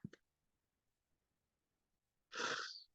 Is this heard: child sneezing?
yes